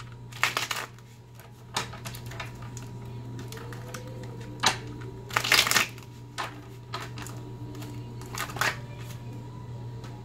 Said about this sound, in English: And shuffle 2 more times.